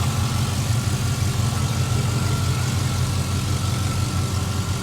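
Leveled 2004 Chevrolet Silverado 1500 Z71 4x4 with a 5.3 liter Vortec V8 and cold air intake idling, a steady low rumble that stays even and smooth throughout with no ticks or irregular sounds.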